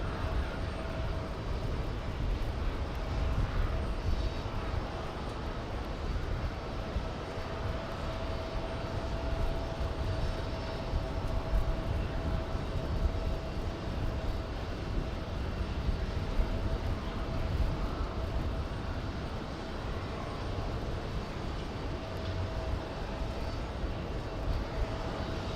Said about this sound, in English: Etihad flying back to Abu Dhabi